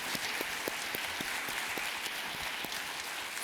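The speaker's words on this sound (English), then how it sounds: "Please give them a round of applause as well." An audience at a leadership roundtable gives a sustained round of applause, dense even clapping from many hands filling the whole stretch at a steady level.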